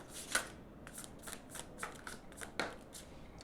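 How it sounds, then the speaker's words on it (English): Astrology cards being shuffled and drawn, a run of quick papery riffles and slaps in an uneven rhythm, close and moderately quiet, with no voices. "Let's get an astrology card for both sides to start with."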